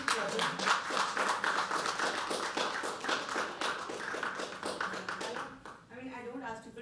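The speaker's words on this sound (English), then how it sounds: "Keep clapping, keep clapping, keep clapping." Rhythmic clapping from a small open-mic poetry audience at The Habitat, crisp individual claps that thin out and fade, followed by a voice speaking over the last moments.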